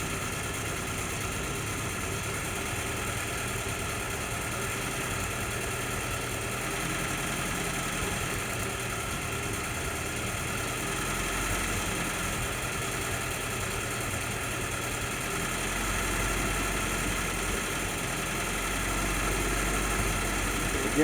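An M38A1 jeep engine idles on its own with the pedal and choke untouched, a steady close rumble that sags and then swells back up, surging unevenly over about twenty seconds with no talking.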